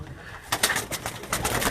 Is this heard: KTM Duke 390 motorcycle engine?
no